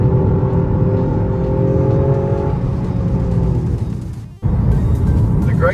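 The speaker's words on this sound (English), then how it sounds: "We get the boy racer benefit of the exhaust note." A Toyota Yaris GR's exhaust drones loudly under acceleration inside the cabin, a steady engine note that rises then cuts off abruptly before resuming.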